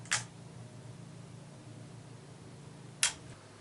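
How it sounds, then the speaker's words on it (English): Two crisp shutter clicks from a Holga camera about three seconds apart, the first opening and the second closing, with quiet hum between. "hold the shutter open for the 1 second"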